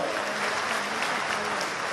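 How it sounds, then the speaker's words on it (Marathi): Dense crowd applause at a political event marking the launch of an air service in Solapur, a loud, even burst of many hands clapping with no break. "एकदा जोरदार हात वरती करून जोरदार टाळ्या वाजवा"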